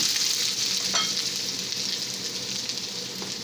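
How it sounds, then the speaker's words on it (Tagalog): Garlic and red onion sauté in hot oil in a pan, giving a steady bright sizzle with a few faint clinks from stirring, close and continuous. "pan is hot already. We'll start sauteing it. Garlic, red onion,"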